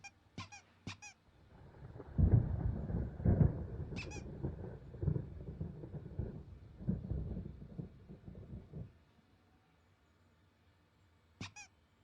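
Thunder rumbles in a stormy game scene in Alan Wake, a low, rolling boom swelling for several seconds then fading, with sharp squeaky chirps at the start and end.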